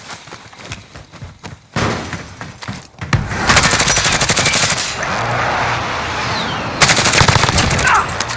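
Gunfire in Call of Duty: Modern Warfare: scattered shots early on, then sustained loud automatic bursts in rapid rhythm, fading briefly before another close volley near the end.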